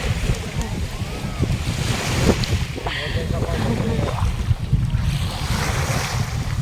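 Sea surf rolls at a beach with steady wash and rumble and heavy wind buffeting the microphone, while people chat nearby over the constant roar.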